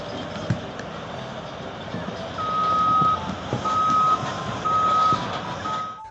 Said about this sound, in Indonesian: Di sini ada mobil truk tambang.